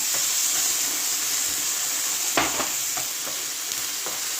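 Caramelized onions with fresh tomatoes and tomato sauce being stirred in a pan, a constant close sizzle and hiss broken by a few clear scrapes of the spoon.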